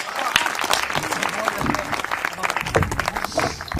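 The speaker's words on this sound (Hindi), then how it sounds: "जोरदार तालियां बजाकर इस युवा का स्वागत" An audience claps loudly to welcome a young poet at a Hindi poetry gathering, with dense, uneven clapping running throughout the short stretch and voices mixed in with it.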